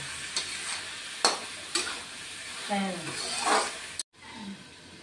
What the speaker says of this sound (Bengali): মশলাগুলির সাথে সবজিটা কষিয়ে নিব। এটাও 1 মিনিট মতো কষিয়ে নিব।